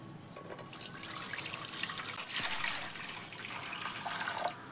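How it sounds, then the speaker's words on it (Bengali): Water pours steadily into a large bowl, a continuous close splashing and trickling that runs for several seconds with no talking, while a salt brine for a raw mango pickle is being prepared. "এই বাটির মধ্যে দিয়ে দিব কিছুটা পরিমাণ জল"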